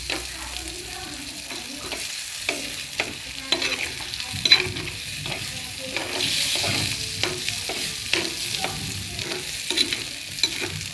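Sliced sausages frying in oil in a pan until browned, a continuous close sizzle with repeated scraping and tapping of a spoon as they are stirred, moderately loud and without talk.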